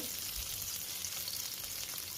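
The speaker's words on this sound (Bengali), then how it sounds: "ফুলকপিটাও বড় বড় করে কেটে লবণ হলুদ মাখিয়ে ডুবো তেলে ভেজে নিলেই ফুলকপি ভাজা রেডি।" Large cauliflower pieces rubbed with salt and turmeric deep-fry in oil with a continuous, even, crackling sizzle, close and unbroken throughout.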